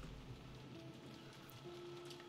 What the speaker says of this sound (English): And it was raining this hard too.